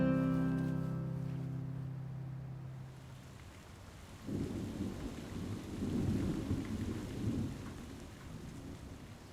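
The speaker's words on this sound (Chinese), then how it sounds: "外面下大雨啊" Heavy rain pours outside with rolling thunder, a low rumble fading early on, then a steady roar of rain on surfaces swelling and continuing, heard from indoors without any talking.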